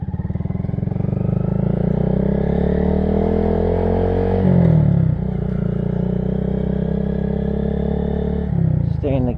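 A 2022 Honda Grom motorcycle ridden at low, steady speed in one gear, its small single-cylinder engine a continuous loud drone with slight pitch rises and brief throttle changes near the middle and end.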